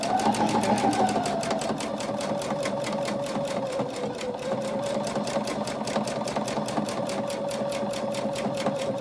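A Bernina sewing machine stitching a quilted pillow cover, a fast, even rhythmic clatter of the needle with a steady motor hum, close and continuous throughout.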